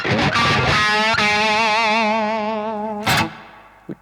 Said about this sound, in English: Really nice crunch tone.